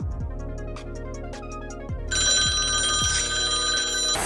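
A mobile phone rings during a stage memory challenge. Loud electronic ring bursts repeat at an even pace, then a brighter, higher tone joins partway through, and there is no talking.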